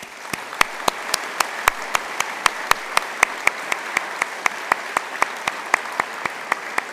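Audience at a University of Galway autumn conferring ceremony clapping in a hall, crisp rhythmic claps steady and fairly loud throughout.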